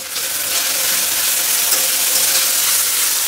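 Capsicum, carrot and beans fry in a pan with a loud, dense, continuous hiss and sizzle while being stirred, steady throughout with no voices.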